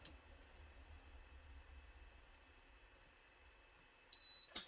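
A continuity tester gives a short electronic beep near the end while parts of a 50-watt amplifier kit are checked, a faint, quiet background hum coming before it.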